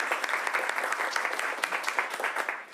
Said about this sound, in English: I was going to say, big round of applause.